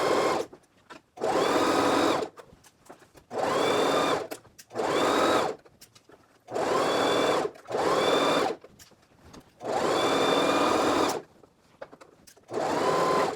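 Short bursts of a sewing machine stitching a skirt seam, each run a second or two long and separated by brief pauses as the needle is lowered and the fabric pivoted at corners, steady and close.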